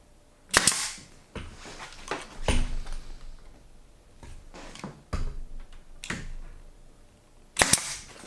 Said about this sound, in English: I'm also going to tack them with the gun there.